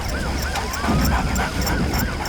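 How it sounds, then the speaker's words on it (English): A dog whimpers and yips in a repeated, rising whine over a noisy, busy background with a steady high hum. "There he is. It's a dog."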